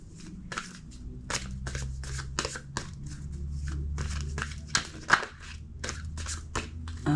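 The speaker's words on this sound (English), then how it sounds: "2 more shuffles" A deck of tarot cards is shuffled in a run of soft, rapid riffles and taps close by, over a low steady background hum.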